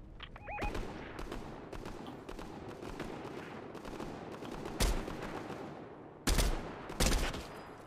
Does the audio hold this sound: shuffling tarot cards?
no